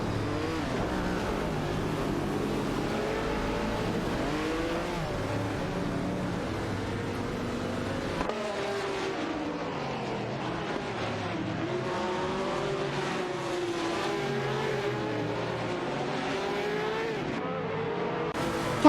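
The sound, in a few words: race cars racing in a video game race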